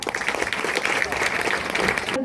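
A school event audience breaks into vigorous applause, dense close clapping filling the room steadily for a couple of seconds before cutting off abruptly.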